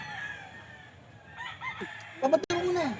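Rooster crowing and chickens clucking at an outdoor gamefowl seller's stall, one clear crow rising above scattered clucks with people talking nearby.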